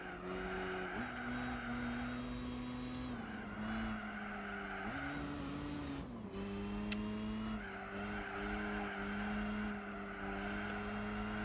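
A TVR Griffith sports car in Gran Turismo 4 drones along with its engine note stepping up and down through gear changes while tires squeal and skid continuously, no talking.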